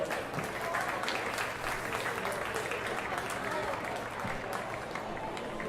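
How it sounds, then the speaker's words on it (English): A crowd in the stands at an AFL Sydney reserves grand final applauds the umpires with sustained, dense clapping from a distance, while an announcer talks over it. "I think everyone in the stands must give them a round of applause as well"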